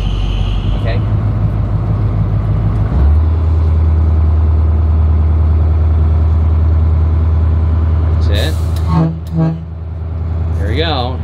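A car engine drones low and steady on a Route 66 road trip, swelling slightly as the driver presses the gas, with brief horn-like tones near the end and people talking over it.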